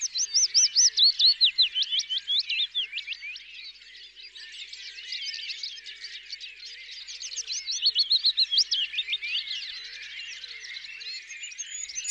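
Wild birds call continuously in natural surroundings, with rapid high chirps and trills in repeated bursts that swell and fade over about twelve seconds.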